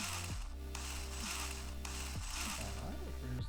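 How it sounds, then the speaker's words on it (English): Bolts are tightened on a windshield washer pump cover, with a steady ratchet clicking and mechanical whirring that runs close and continuously, alone and without talk. "here's the last bolts going in"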